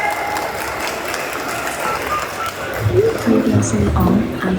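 Crowd applause for a cosplayer stepping onto the stage at a Japan Expo Paris cosplay parade, a sustained wash of clapping with a host talking over it near the end.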